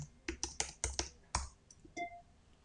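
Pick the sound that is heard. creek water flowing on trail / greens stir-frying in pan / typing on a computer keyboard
typing on a computer keyboard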